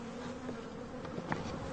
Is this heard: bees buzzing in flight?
yes